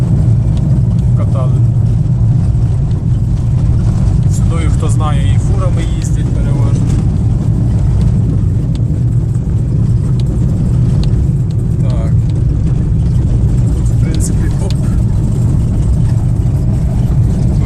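A Toyota car rolls along a field road, its steady engine drone and road rumble loud and continuous from inside the cabin, with occasional faint knocks over the hum.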